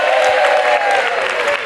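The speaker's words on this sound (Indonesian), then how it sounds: "Tepuk tangan dong untuk Oci." A studio audience on the Family 100 game show gives a short burst of applause for a contestant, dense and close. A sustained tone runs underneath the clapping.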